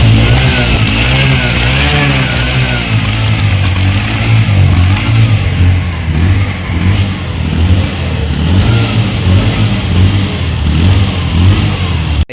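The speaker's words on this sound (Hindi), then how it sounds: "अब हम इसको रैप करके देखते हैं कैसी लगती है, कैसा साउंड आता है।" A Bajaj Platina 110 motorcycle engine revs repeatedly up close, its loud throaty roar rising and falling in quick pulses over a rumbling idle.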